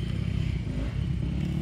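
A Honda CRF250R dirt bike runs on a track at Matane, its engine a steady, throaty rumble heard from a middle distance with a faint clattery edge, no voices over it.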